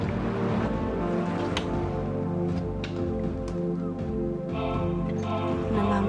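A powerful motorboat engine drones steadily across open water, mixed with lapping waves and a few sharp knocks, fairly loud and continuous throughout.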